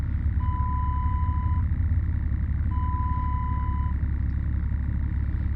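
Two long, steady electronic reversing beeps from a truck sound over the constant low rumble of an idling engine, with a pause between them.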